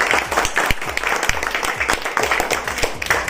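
Children clap loudly together in a room, a brisk, dense round of applause that runs steadily for about three seconds with no talking over it.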